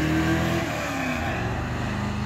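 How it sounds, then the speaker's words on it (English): A truck with a manual clutch accelerates in second gear, its engine revving loud and close with a rising, gravelly drone over the brief moment. "Man, that truck sounds good."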